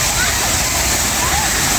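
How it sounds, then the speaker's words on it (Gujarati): A small stream flows and splashes during light rain in a green outdoor spot, a close, loud rushing of water that stays steady, with a voice present over it. "નાનકડું પાણીનું ઝરણું અહીં પણ વહી રહ્યું છે"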